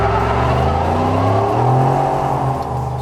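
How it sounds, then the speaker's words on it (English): A 2018 Ford F-150 SuperCrew pickup with the 5.0L V8 doing a burnout, its engine roaring loud and close, revs climbing and holding in a sustained, rising drone. "will it do a burnout?"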